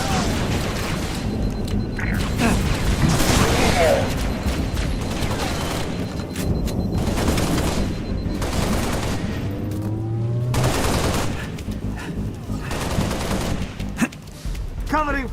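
Covering gunfire in Halo: Reach: dense, loud bursts of automatic fire mixed with heavy booms and explosions, punctuated by battle chatter and voices, continuous chaotic combat throughout.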